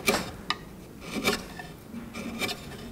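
Chisel paring an oak plug flush by hand, working with the grain: a few soft scraping, rasping strokes, short and close, with brief pauses between them.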